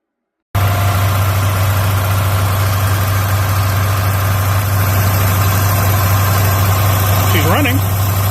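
A Mitsubishi Montero engine starts and settles into a steady, loud idle with a deep, constant rumble and hum that continues throughout.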